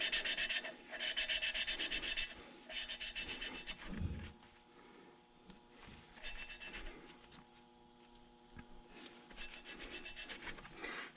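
A valve-lapping tool with a suction cup is spun by hand against a valve seat in a Mazdaspeed 3 cylinder head, giving gritty, rasping rubs in several back-and-forth bursts with short pauses, close and fairly quiet.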